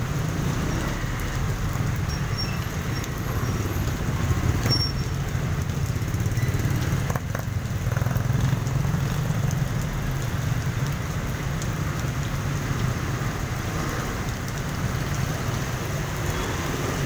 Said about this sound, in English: Yeah, the rain just keeps coming down steadily.